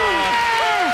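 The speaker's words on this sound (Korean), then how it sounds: "박수 보내주세요." Steady, loud applause from a school class welcoming visiting teachers and students from a neighbouring school, dense and continuous throughout, with a voice faintly audible over the clapping.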